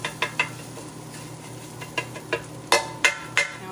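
Eggs being scrambled for chicken fried rice on a Ninja Sizzle pan: a spatula clinks and scrapes against the pan in a string of sharp, close taps that grow louder toward the end, over a low steady hum.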